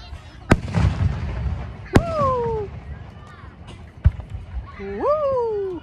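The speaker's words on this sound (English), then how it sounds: "Look at the fireworks, guys." Fireworks exploding at night, several sharp separate bangs with whistling rising trails in between, mid-distance, with voices and cheering around them.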